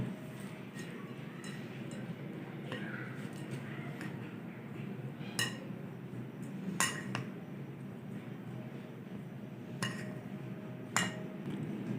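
Dry fruits for besan suji laddu being stirred in a pan, a steady scraping rustle broken by occasional sharp clinks of a utensil against metal.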